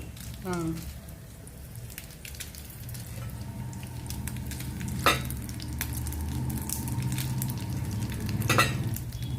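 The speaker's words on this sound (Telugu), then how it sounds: "ఎండుమిర్చి కూడా ఎక్కువ మాడిపోకూడదు లైట్గా ఫ్రై అవ్వాలి" Dried red chillies lightly frying in a pan for a cucumber chutney give a steady soft sizzle with occasional stirring scrapes and clinks, close and moderately loud throughout.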